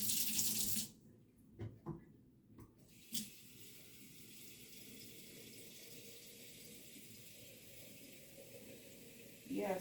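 Tap water runs into a sink, starting with a loud gush before turning into a steady, softer stream over several seconds, with a few clunks and splashes.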